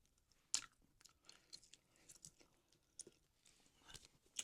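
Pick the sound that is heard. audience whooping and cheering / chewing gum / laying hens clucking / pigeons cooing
chewing gum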